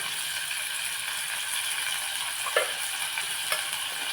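Tomato, potato and brinjal being sautéed in a pan for Marathi-style masala bhat, giving a steady soft sizzle with faint stirring scrapes and a couple of brief clinks.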